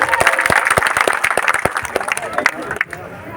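An audience at a company picnic claps together in a dense burst of applause, individual claps standing out in a steady rhythm before fading toward the end, with crowd voices mixed in.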